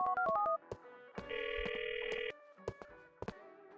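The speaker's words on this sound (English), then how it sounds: "Niko makes the following phone call to Faustin." Telephone ringing and dialing tones from a phone call in the video game GTA IV, with short beeps, a sustained electronic ring tone in the middle, and scattered clicks afterward.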